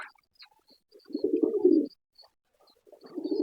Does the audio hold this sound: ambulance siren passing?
no